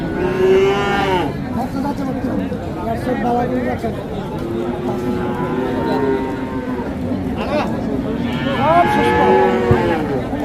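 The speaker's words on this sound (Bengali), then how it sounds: "সুন্দর ক্রস জাতের সার বাছুর আছে" A cross-breed bull calf moos loudly several times, long drawn-out calls rising over a constant background of crowd chatter at a cattle market.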